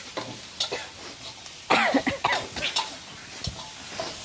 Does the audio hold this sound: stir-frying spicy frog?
yes